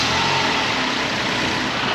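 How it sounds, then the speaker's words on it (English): A Ford Escape with an evap purge valve circuit fault runs at a loud, steady, close engine drone with no clear change in pitch and no talking. "So begin engine starting sequence now."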